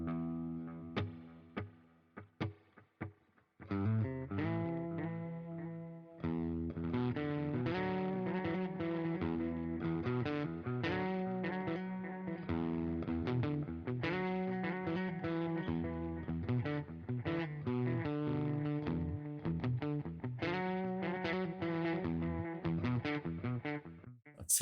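Electric guitar run through a Donner Triple Threat echo pedal, playing a steady stream of repeated notes and chords that smear into dense echoing repeats, with a few sparse picked notes before the sustained playing starts.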